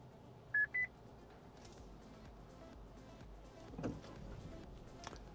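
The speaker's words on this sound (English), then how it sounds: "That little beep was the Subaru telling me the car in front had moved." Two quick electronic beeps from the driver-assist alert of a 2022 Subaru Forester S AWD, signalling that the car ahead has moved, clear over a low cabin hum, followed by soft interior rustling.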